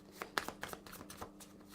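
Pandemic board game cards are shuffled by hand, giving soft riffling and tapping clicks in quick irregular bursts, close and quiet.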